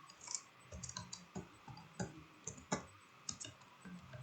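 Someone types on a computer keyboard in a quiet room, with fairly soft, irregular key clicks arriving in short bursts. Nobody speaks.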